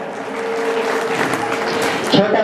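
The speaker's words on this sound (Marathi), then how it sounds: "हा जोरदार टाळ्या वाजवा" A crowd at a Marathi Home Minister game event breaks into steady clapping, a dense even patter lasting a couple of seconds with faint voices mixed in.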